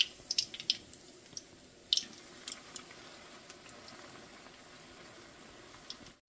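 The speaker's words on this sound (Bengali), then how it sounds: "এইভাবে আমি সবগুলো পিঠা ভেজে নিয়ে আপনাদের পরিবেশন করে দেখাবো" Rice flour pitha cakes deep-frying in oil bubble quietly and continuously at a distance, with a few sharper crackles and pops near the start before the sound settles into a faint, even simmer.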